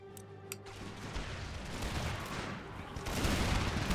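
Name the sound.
musket gunfire in Empire Total War mod battle, video game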